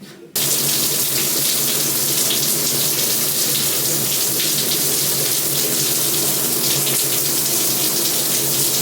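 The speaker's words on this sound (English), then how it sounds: "now I'm gonna take a shower because I probably won't be able to take one later" A hospital shower runs steadily for about nine seconds, a loud, close, continuous hiss of falling water that starts abruptly and has no voices over it.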